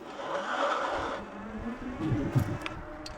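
A Wired Freedom electric bike spins its rear tire in place to heat it, making a rising electric whine and rough tire hiss that swells and then trails off, close by, with no talk.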